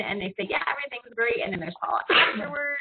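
A single abrupt sneeze bursts out near the end, partly overlapping someone talking continuously in a conversation about agricultural trade.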